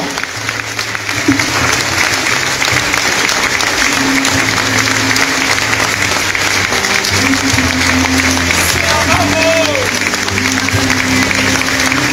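A crowd claps loudly and continuously at a mayor's funeral in San Juan La Laguna, Guatemala, the sustained applause lasting throughout with faint voices mixed underneath.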